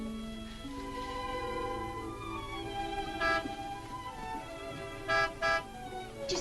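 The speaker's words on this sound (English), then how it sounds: "You know Martin would never honk a horn at a lady" Several short car horn toots sound over a busy orchestral film score, two close together near the end, moderately loud and set back in the mix.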